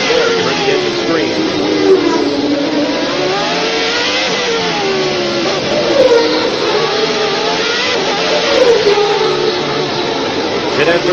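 A 1990 Formula 1 car's engine recorded onboard, a loud continuous high-pitched scream whose pitch climbs and drops repeatedly through gear changes and downshifts, with commentary-like voices faintly underneath.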